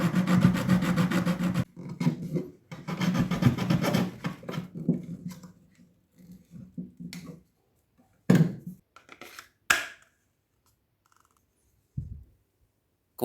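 Hand-notching a pipe for a homemade 12V drill-battery sprayer: rough rasping strokes in bursts, steady at first then breaking into sparse scrapes and a few sharp knocks, close up with no talk.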